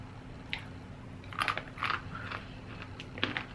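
Crunchy garlic and onion flavoured broad beans being bitten and chewed close to the mic, a few sharp crisp crunches spaced irregularly over a quiet background with no talk.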